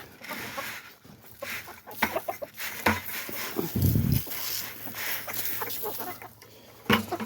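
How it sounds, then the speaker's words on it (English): Copper Marans hens cluck and murmur in an irregular, busy chatter inside a henhouse, close by, with scattered rustling and a brief deeper burst in the middle and no talking. "we have some copper marans that were given to us as chicks"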